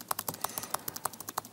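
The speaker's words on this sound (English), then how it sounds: "So I'm just mindlessly tabbing." Computer keyboard keys tapped in a quick, slightly irregular run of about a dozen sharp clicks, close and clear with no talking.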